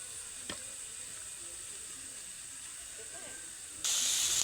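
A pan of spice paste for egg curry hisses steadily, with a faint tap near the start and a sudden loud burst of sizzling steam near the end as water is added.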